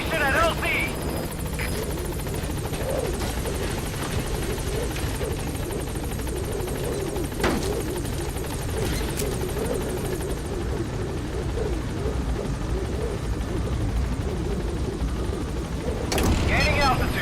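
Helicopter B-Quad from the game Metal Gear Solid V arrives at a landing zone: a steady, loud rotor drone fills the whole stretch, with a few sharp bursts and a louder swell near the end, and radio voices talk over it.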